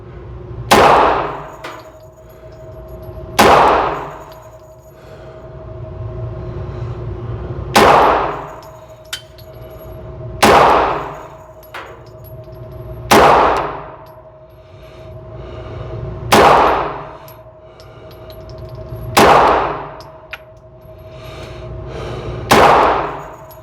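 Glock pistol shots striking steel targets, about nine loud, sharp reports spaced evenly a few seconds apart, each followed by a ringing metallic clang that fades, with no talking.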